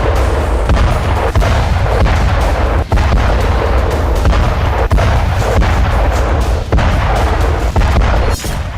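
Relentless, dense roar of heavy bombardment in Gaza, with 2000-pound bombs and ground-shaking blasts merging into a loud, continuous rumble broken by a few brief dips, close and overwhelming with no voices.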